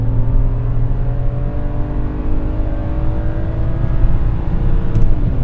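A BMW E90 328i with its inline six engine pulls hard through a long gear, a smooth, steady drone rising gradually in pitch, loud and close with no talking over it.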